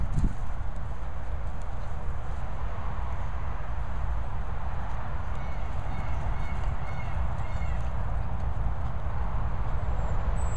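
Steady outdoor noise with horses moving nearby, hooves thudding and clopping continuously under a constant low rumble.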